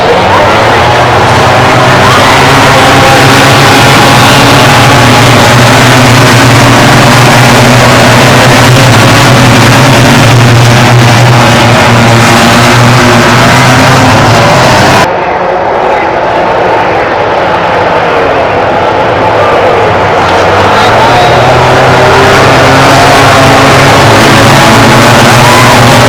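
MotoGP racing bikes with V4 engines roar past on the track at very high speed, a loud sustained snarling drone with layered engine tones that swell and shift, blended with distant crowd and commentary.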